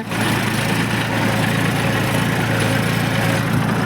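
A tractor engine runs at a steady, unchanging drone, a loud low rumble with a constant hum and no voices over it.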